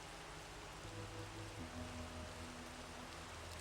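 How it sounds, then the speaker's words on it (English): Soft, steady hiss of rain trickling through leaves in Minecraft, continuous and even, with faint low tones running underneath and no talk. "getting slightly damp from the rain trickling through the leaves"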